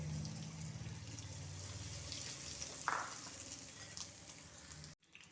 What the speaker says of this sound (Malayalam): ഇപ്പോഴത്തെ നമ്മൾ തയ്യാറാക്കി വെച്ചത് ചൂടായ എണ്ണയിലേക്ക് ഒഴിക്കാം